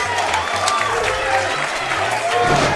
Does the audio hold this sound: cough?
no